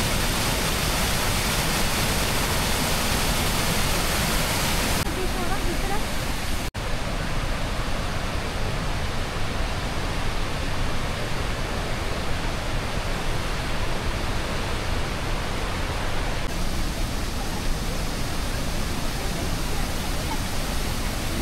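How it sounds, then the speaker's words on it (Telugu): Rhine Falls in Switzerland roars as a dense, unbroken wash of falling water, loud and near, filling the whole stretch without pause. "ఈ వాటర్ ఫాల్ పైకి వెళ్ళే కొద్దీ ఇంకా వస్తూనే ఉంది"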